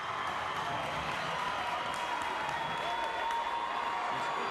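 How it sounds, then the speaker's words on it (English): A crowd at a high school basketball game applauds and cheers in a steady, dense roar that holds for several seconds in a gym. "You see Watson here getting the crowd fired up."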